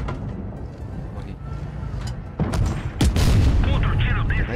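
Video game gunshots crack out in a few loud booming bursts near the end, over continuous game noise and background speech.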